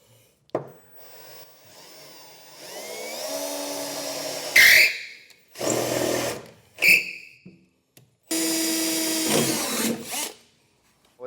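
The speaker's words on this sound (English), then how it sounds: "just with an 1/8 inch drill bit, we're gonna drill through each of these holes" A 1/8 inch drill bit bores through the bracket holes on a 2021 Ford F-series truck frame during a B&W Patriot 5th wheel hitch installation, in several short, loud bursts of power drilling separated by pauses.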